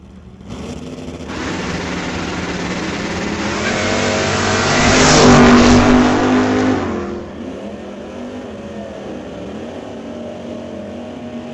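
Drag race launch of a Chevy II against a 5-liter Ford Mustang at a bracket race, engines roaring loud and near, rising to a peak as the cars pull away and then fading into a distant drone.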